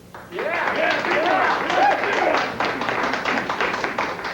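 A studio audience claps and cheers in a round of applause voting for the second choice, a loud, sustained burst of many hands with excited voices mixed in, fading a little toward the end.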